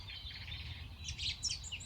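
Birds chirp in a New Jersey park in the evening, with quick, high calls and twitters that overlap and grow a little busier toward the end above a low, faint background hum.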